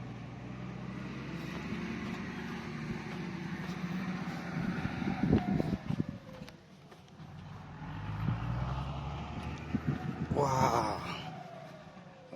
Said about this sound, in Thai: เลื่อนรถไถก่อนครับ